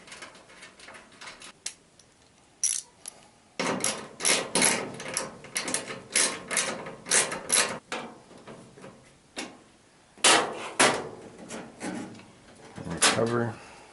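Turning a large ground screw into the metal back panel of a Whirlpool Duet dryer: a series of close, sharp clicking and ratcheting bursts with short pauses between them, under light handling noise.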